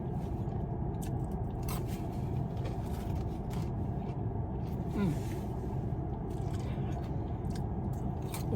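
Bites and chewing of a salmon salad during a mukbang, soft crunchy and squishy mouth sounds repeating close up over a steady low background hum, with no talking.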